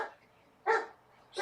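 A dog barks indoors: two sharp, mid-pitched barks about a half-second apart, fairly close, with a quiet room in between.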